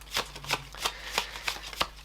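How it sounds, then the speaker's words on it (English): A deck of Mercante della Fiera cards, used as an oracle deck, is shuffled by hand up close in a steady rhythm of soft riffling bursts. "we are shuffling with intention"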